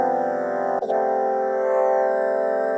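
A Casio CT-S1000V keyboard plays a sustained synthesized chord tone, close and steady, with a brief click as the sound changes partway through.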